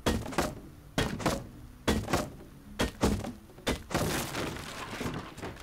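A hatchet in the Rust video game strikes objects in a run of sharp, hollow thunks, roughly one per second, each dropping off fast before the next blow, with no talk over them.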